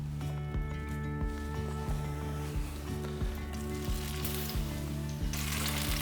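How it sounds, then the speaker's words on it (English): Tomatoes frying in oil in a pan, a steady close sizzle running over a repeating rhythmic thump in the background. "add some oil to the pan. And then your tomatoes."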